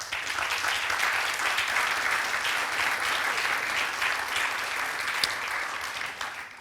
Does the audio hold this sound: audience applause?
yes